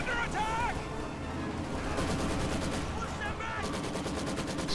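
Maxim machine gun fire in a World War I battle video game, a dense, continuous stream of loud gunfire and distant explosions filling the whole stretch, with brief overlapping voices.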